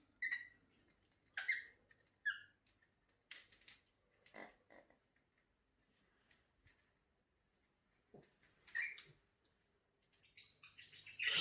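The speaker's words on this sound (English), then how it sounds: "it's not the GameZone Birdroom without all the birds" Pet birds chirp and tweet in an indoor bird room, scattered bursts of bright calls with quiet gaps between, some near and loud, others softer.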